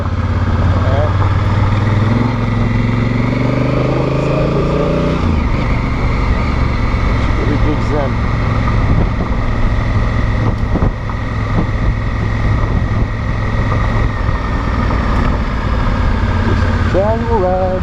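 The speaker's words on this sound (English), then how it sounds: "casual ride on the gravel" Honda Africa Twin adventure motorcycle ridden on loose gravel, a steady close engine drone mixed with wind rush and crunching tire noise, rising pitch shifts as it accelerates, with a rider's voice talking over it.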